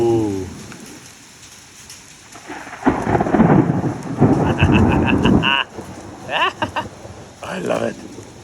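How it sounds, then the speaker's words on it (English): Thunderstorm with heavy rain, rolling thunder swelling loud and close over steady downpour for several seconds, then easing, with bird calls and a voice speaking briefly near the end. "So it looks like most of the storm's over there now."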